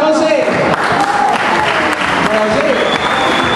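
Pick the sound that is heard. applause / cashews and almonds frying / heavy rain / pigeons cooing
applause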